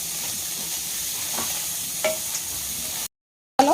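Chicken pieces fry in butter until browned for white sauce chicken pasta, a steady close sizzle with faint stirring, cut off briefly by a sudden dropout near the end.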